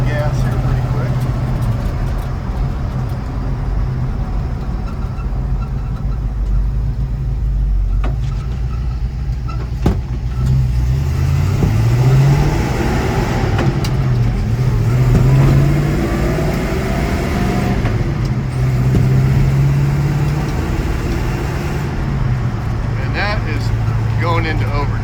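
1952 Studebaker V8 truck cruising on the road, a steady low engine drone inside the cab with slight rises and falls in revs, someone talking over it throughout.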